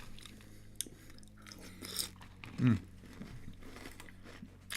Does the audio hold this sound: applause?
no